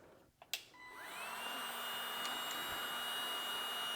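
DeWalt DCE530 20V cordless heat gun heating PEX tubing: a click, then the fan spinning up with a rising tone and settling into a steady, moderately loud blowing whir that continues alone.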